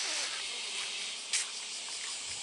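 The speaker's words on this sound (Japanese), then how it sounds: "セミがうるさく鳴いております。" Cicadas shrill loudly and steadily through a summer morning outside a house with a flower bed, a dense continuous buzz filling the air with one brief sharper burst partway through.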